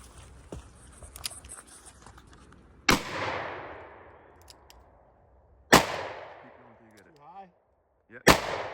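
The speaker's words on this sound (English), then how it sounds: "Now we're going to try to shoot 357 right through there." Three sharp, loud gunshots from a .357 Ruger SP101 revolver, spaced a few seconds apart outdoors, each with a trailing echo, and a brief voice between the second and third.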